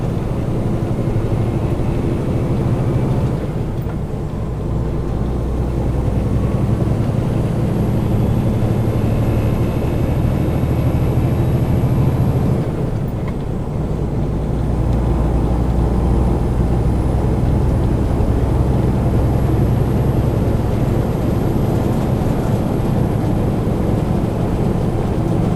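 A heavy truck engine drones loudly and steadily in the cab as the driver skip-shifts down into a lower gear, with brief dips in the roar and the engine note shifting as the gear changes.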